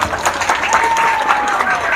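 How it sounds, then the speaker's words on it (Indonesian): Crowd applause at a political gathering, loud and continuous, with voices and cheering mixed into the clapping. "Tepuk tangan dulu."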